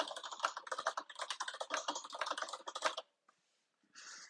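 Close, fast bursts of typing on a computer keyboard, rapid clicking keystrokes for about three seconds, then a pause and a short final flurry.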